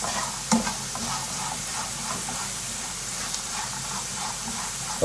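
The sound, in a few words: stirring frying potatoes with salt in a pan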